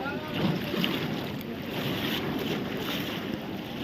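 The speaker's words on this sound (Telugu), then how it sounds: "ఈ విధంగా గోదావరి ఎక్కువగా ఉప్పొంగింది" Floodwater of the swollen Godavari river at Dharmapuri surges steadily in the rain, a constant broadband roar with wind buffeting the microphone throughout.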